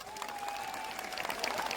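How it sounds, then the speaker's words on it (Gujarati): A crowd claps continuously in a dense crackling patter at an Aam Aadmi Party victory rally in Rajpipla, Narmada district, moderately distant and without pause through the short stretch. "બધા માટે એકવાર જોરદાર તાળીઓ પાડી લો।"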